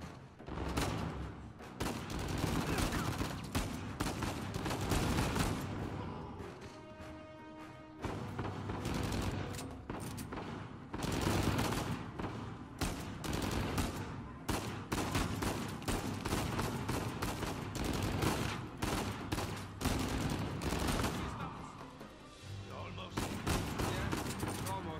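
Sustained gunfire from the video game Uncharted 4, with dense bursts of rapid shots and heavy booms running almost continuously at loud level, with a few brief pauses.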